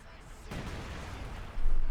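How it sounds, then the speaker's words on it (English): Artillery shells land in a Company of Heroes 2 match, a dense roaring blast swelling after a sharp onset and a second heavier impact near the end, under a commentator's voice. "Oh, it's going to get hit by artillery."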